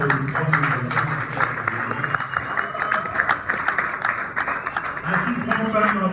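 Applause from an audience at an investiture ceremony during a Congolese youth round-table debate, a steady wash of clapping with speech running over it.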